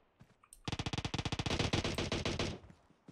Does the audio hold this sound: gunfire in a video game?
yes